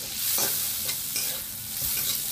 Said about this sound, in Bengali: এগুলোকে একটু লাল লাল করে ভেজে নেব